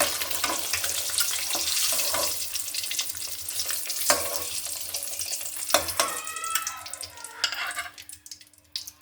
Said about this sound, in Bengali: ডিমটা আমি একটু ভেজে নেব